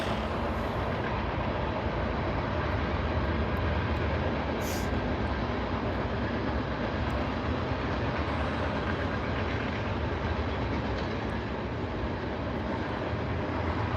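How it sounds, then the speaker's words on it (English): A passing train makes a dense, steady rumble that fills the whole stretch at constant loudness, broad and roaring like wheels and engine running close by, with no talk over it. "It's train time."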